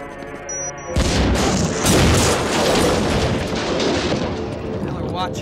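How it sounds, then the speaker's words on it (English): A bomb goes off in a frogmen war film, a sudden loud boom followed by a long rumbling, crackling roar and debris that trails away over several seconds. "He is not stupid enough to hang around when a bomb is about to explode."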